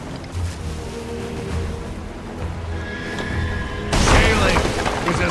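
A ship's cannon fires in the pirate video game Sea of Thieves: one heavy boom near the end of the clip over a steady bed of sea and wave ambience.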